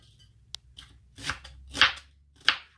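A knife cuts an onion into pieces on a cutting board while salsa is being prepared, giving several separate crisp chopping strokes, close and fairly loud, with short pauses between them and no talk.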